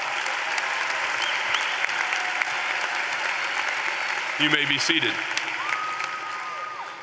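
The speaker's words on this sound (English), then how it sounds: "Let's give all of those students a round of applause." A large audience applauds steadily for graduating students at a high school commencement, a dense, sustained clapping throughout, while someone speaks briefly over it on a public address system.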